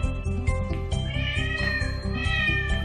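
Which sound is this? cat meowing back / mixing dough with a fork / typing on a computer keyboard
cat meowing back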